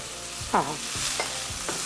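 Spoon scraping and stirring cooked lentils in a pan, a few short scrapes over a soft background hiss, with occasional low knocks.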